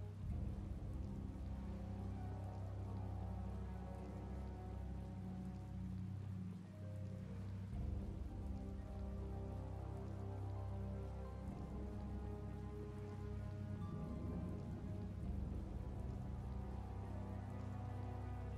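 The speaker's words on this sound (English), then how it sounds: "this rain is so depressing. I don't want it to be raining anymore." Steady, soft rain falls throughout in the Tales of Vesperia video game, a constant even patter with a low background hum underneath and no talking.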